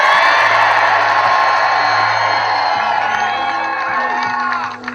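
A large crowd roars and cheers continuously at a Kamala Harris campaign rally in the Chippewa Valley, Wisconsin, with dense shouting and whooping sustained throughout before easing slightly at the end.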